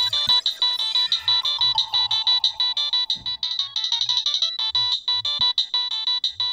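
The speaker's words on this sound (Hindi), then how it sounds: "इसमें बात करते करते दूसरा फोन आता है तो उसकी भी ये रिंग सुनाई देती है" A mobile phone ringtone plays a rapid, repeating electronic melody, clear and steady throughout with no talk.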